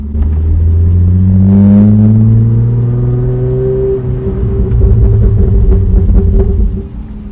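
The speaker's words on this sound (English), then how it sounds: "Get that little bit of burble." A BMW E36 engine rumbles close up while driving, its exhaust note climbing and falling through revs, then settling into a low, uneven burble with no speech.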